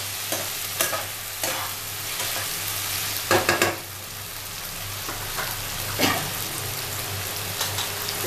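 Tomato and other ingredients sauté in a pan with a steady close sizzle, while a spoon stirs and scrapes several times in short bursts, with no talking.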